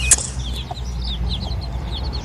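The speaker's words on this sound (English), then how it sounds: "Oh, look at the baby chickens." Baby chicks cheep in quick, repeated high peeps over a low steady background hum, close by, with no talking.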